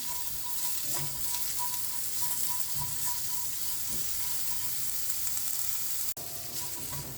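Pirandai (adamant creeper) roasting in a pan, a steady close sizzle and crackle running throughout, with faint stirring scrapes and one brief sharp click near the end.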